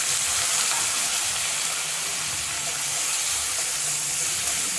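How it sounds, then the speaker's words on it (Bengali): Onion and green chilli frying in hot mustard oil in a kadai, giving a steady close sizzle throughout with no talking. "তেলটা গরম হয়ে গেছে, এর মধ্যে দিয়ে দিচ্ছি পেঁয়াজ আর কাঁচা লঙ্কাটা।"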